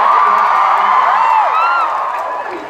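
A live theatre audience at an evening show in Amsterdam cheers and whoops loudly, a dense wash of high voices and shouts that holds steady and then slowly fades.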